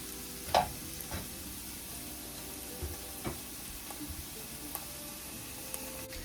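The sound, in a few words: omelet ingredients sauteing in a skillet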